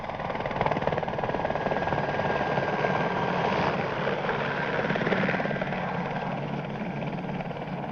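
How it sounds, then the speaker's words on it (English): A helicopter flies nearby, its steady rotor chop and engine drone loud and continuous throughout with no voices over it. "That chopper must have come from the direction of their base."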